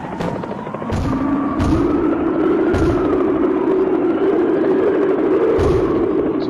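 Enemy gunfire aimed at the player's jet in a VR fighter jet game: a few sharp, scattered shots over the constant loud roar of the aircraft engine.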